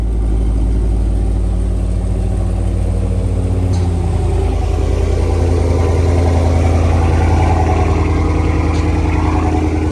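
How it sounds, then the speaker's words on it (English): A Dodge Hellcat Redeye idles steadily with a deep, loud low rumble that stays constant throughout, close by and with no talk over it. "The homies let me drive his Hellcat"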